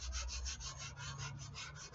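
Steady back-and-forth sanding strokes over a foam repair, close and rhythmic with a low hum beneath, about eight even rubbing passes with no talking.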